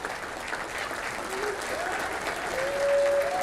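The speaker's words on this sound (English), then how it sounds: "Give Newton a round of applause, guys." A crowd at an outdoor firearms festival applauds, a soft, steady wash of clapping from a distance that swells slightly toward the end, with a faint voice briefly audible underneath.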